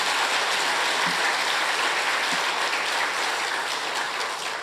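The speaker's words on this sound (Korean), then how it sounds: "힘내라고 격려차 안에서 박수 한번 할까요?" A church congregation claps together in sustained, even applause that fills the room, tapering slightly toward the end.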